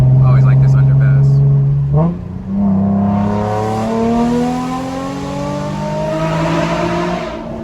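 Nissan 350Z Nismo driving through an underpass, its engine loud and close as revs climb after a gear change, the exhaust note echoing steadily off the enclosed walls.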